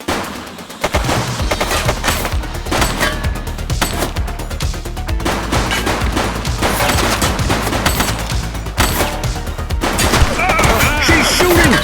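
Gunfire in The Precinct, rapid bursts of loud, close shots and automatic fire crackling almost continuously after a brief quiet opening, with crashes and a voice faintly underneath.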